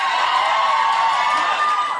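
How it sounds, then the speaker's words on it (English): A television talk show studio audience cheers and whoops loudly as guests come on. The roar is dense and sustained, filling the full two seconds with no pause. "Don't cheer every time you see him."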